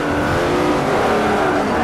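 Racing cars roar continuously in Forza Motorsport 4, engine drone loud and steady with a hint of acceleration and tire noise, no voices over it.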